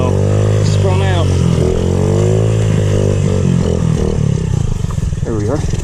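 A Honda XR50 dirt bike spinning out, its small engine revving and whining in rising and falling pitch sweeps close by, with a person talking over the engine noise.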